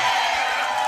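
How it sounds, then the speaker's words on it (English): Crowd at a political forum, a steady wash of applause and cheering filling the room, continuous and fairly loud throughout. "a reminder to the crowd, please hold your applause so that it can get to the answer"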